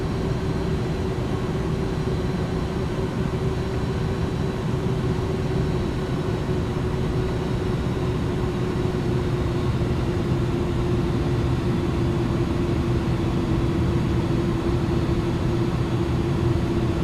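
An iniBuilds A310 airliner on approach into Innsbruck in Microsoft Flight Simulator gives off a steady, loud engine drone with a constant tonal hum, unbroken and alone throughout.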